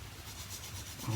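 A short, soft scratchy rubbing: a worn sanding stick stroking back and forth on a small hard plastic part of a 1/35 Airfix Cromwell Mk.IV model kit, quiet and close.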